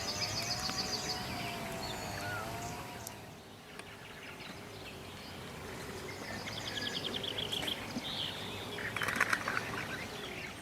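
Birds singing at a quiet lake in the evening, several faint chirps and warbling calls scattered over a soft outdoor hush, with a brief rustle near the end.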